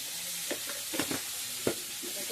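Crab curry with turmeric and salt stirred in a pan, a few soft scraping strokes and light sizzles sounding close, spaced irregularly over a quiet hiss.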